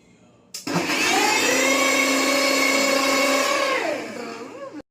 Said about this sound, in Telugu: let's blend and enjoy hour sapota milk shake